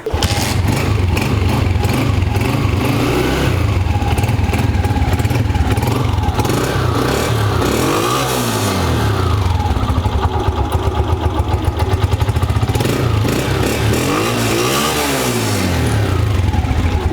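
A motorcycle engine idles and is revved repeatedly in loud surges, rising and falling in pitch, with no talking over it.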